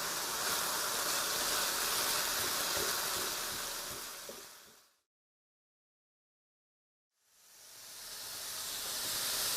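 Pork browns in a hot pan with a loud, even hiss of sizzling fat. It fades away to silence midway, then swells back up.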